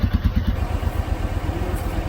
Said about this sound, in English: So I think we just want to start our engines and get things rolling.